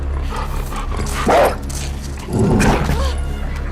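A dog in The Last of Us Part II barks twice in short bursts over a low, steady game ambience, fairly close and loud.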